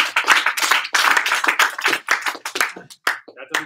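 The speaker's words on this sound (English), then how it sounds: "Give him a big round of applause." An audience at a sales team meeting breaks into a big round of applause, dense overlapping claps close and loud that swell, then thin out toward the end.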